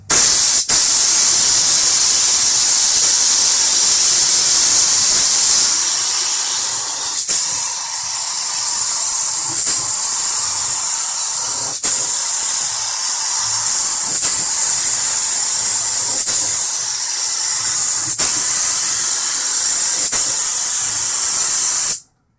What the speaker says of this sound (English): we'll spray the black base, and then throw some clear on it.